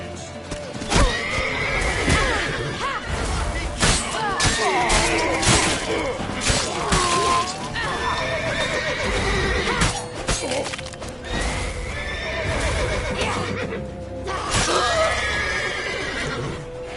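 Horses whinny and neigh repeatedly over clip-clopping hooves, with crashing and shattering noises in a busy, loud scene from the game The Witcher 3.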